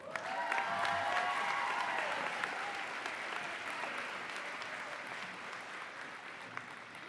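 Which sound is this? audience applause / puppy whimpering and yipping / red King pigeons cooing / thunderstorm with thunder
audience applause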